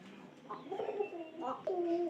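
Pigeon kept indoors cooing, two or three soft low coos close by, with a voice talking quietly underneath.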